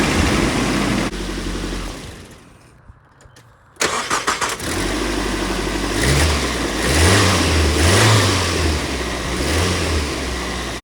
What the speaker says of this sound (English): I turn on the engine to make sure that everything's working properly.